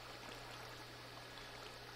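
Steady water flowing in Minecraft Feed The Beast, a continuous even rush with no gaps, heard alone at a low, faint level.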